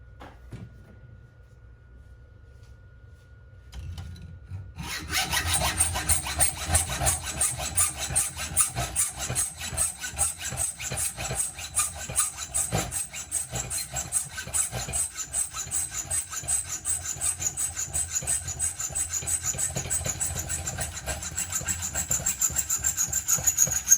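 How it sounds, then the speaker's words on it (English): A hacksaw cuts the heads off bolts with a rapid, steady back-and-forth rasp that begins after a few seconds of near silence, then continues close and even. "So I need to cut the heads off 4 of these things here via the hacksaw."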